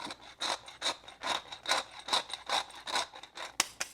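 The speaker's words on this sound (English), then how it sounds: "I don't think I have any already ground, so we're just going to grind this up" Black pepper is ground in a hand pepper grinder, producing about eight rhythmic gritty rasping strokes, evenly spaced and close, at a modest volume with no talking.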